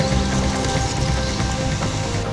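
Heavy rainy-season rain pours steadily in a rainforest, a dense, continuous hiss and patter close around the listener with no voices.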